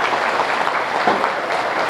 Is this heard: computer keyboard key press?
no